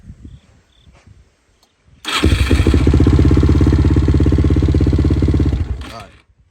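Suzuki LTR 450 ATV engine, wired to a new start button, cranks and catches after quiet moments of faint talk, then runs loud and close with a steady rapid idle for several seconds before cutting off.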